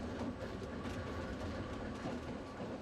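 Soller Railway train on Mallorca rolling steadily along its rails, a continuous dense rumble with faint rhythmic rail clatter, moderately loud throughout and no voices.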